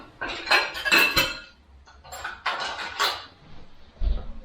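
A metal fork clinks and scrapes against a hot waffle maker while prying cooked chaffles loose, several sharp bursts close by with short pauses between them and no talking.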